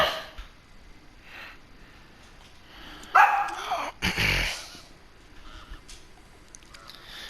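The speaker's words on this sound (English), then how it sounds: "Dog always wants to bark during recordings of the lives." A dog barks during a livestream of bass fishing at a tournament, a few loud bursts near the middle of the clip over faint background noise.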